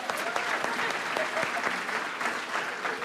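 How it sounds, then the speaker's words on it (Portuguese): Church congregation applauding at a sermon event, a dense, steady wash of many hands clapping throughout, fairly close and full, with no speech over it. "Uma salva de palmas pra minha esposa."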